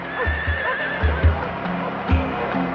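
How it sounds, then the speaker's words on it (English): Pack horses carrying surveying instruments on an expedition across the Australian outback, a clear whinny over heavy hooves clip-clopping in an uneven rhythm close by. "William John Wills, surveyor and astronomer, is leading the pack horses with his instruments and notebooks."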